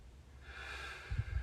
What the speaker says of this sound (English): breathing loud enough to hear your breath.